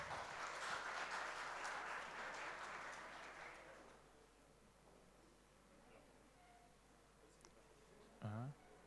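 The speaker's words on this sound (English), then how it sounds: "Guys, big applause." Audience applause at a central bank financial conference session, fairly dense clapping for the first few seconds, then fading into quiet room noise, with a brief faint voice near the end.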